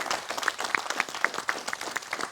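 Audience applause at a Panggung Caleg candidates' stage event in Madura, a steady patter of many hands clapping at moderate distance with a few sharper individual claps standing out, no voices over it.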